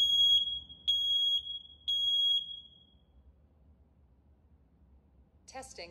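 A Nest Protect 2nd Generation smoke alarm in test mode gives three loud, piercing high-pitched beeps over about two and a half seconds, then falls quiet. A brief voice follows near the end.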